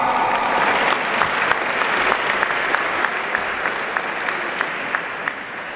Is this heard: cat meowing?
no